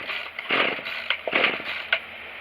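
A Tanaka TCG22 weed trimmer's small two-stroke engine buzzes up close in short uneven bursts, revving and dropping back repeatedly over a few seconds.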